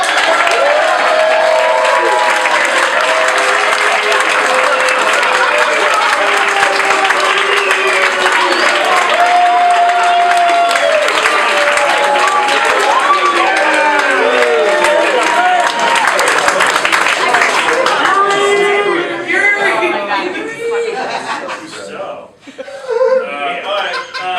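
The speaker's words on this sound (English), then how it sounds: "thank you for the clap, I appreciate it" Audience at an improv retreat awards ceremony applauds and laughs loudly for an award winner, a dense sustained clapping crowd with chuckles and voices mixed in, fading out near the end.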